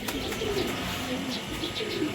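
Pigeons in a loft cooing softly and repeatedly at close range, low throaty calls over a faint background rustle.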